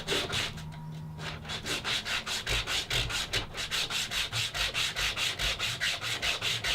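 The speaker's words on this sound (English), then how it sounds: "I'm just going to wrap it with a piece of sandpaper so that I can get in there and finish it up." Sandpaper wrapped around a wooden block being rubbed by hand inside a slot cut in wood for a tablet stand, a close, rhythmic back-and-forth scratching that keeps an even, quick pace throughout.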